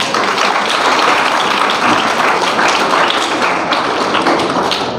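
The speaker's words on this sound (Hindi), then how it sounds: "तो आप अपने लिए तालियां बजा सकते हो" A school audience at a government senior secondary school claps together in a dense, steady burst of applause, loud and continuous throughout with no speech over it.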